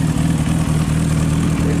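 A Yamaha R6 sport motorcycle revs hard at a gathering of sport bikes in El Salvador, sheltering under a tree from the rain. The engine note is loud, close and continuous, with a rough pulsing throb and no voices.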